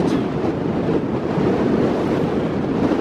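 Strong wind buffets the microphone at an exposed wild camp near Dow Crag in the Lake District, a loud, steady roaring rush with no voices.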